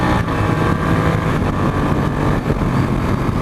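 A 2015 Ducati 899 Panigale engine runs loud and steady throughout, the quick shifter flipping through a gear without an obvious break in the continuous revving roar.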